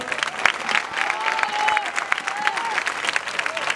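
An audience at a debate talk with Dr. Zaffaroni in a café breaks into steady applause, a dense wash of many hands clapping near and loud, with some voices speaking faintly beneath it.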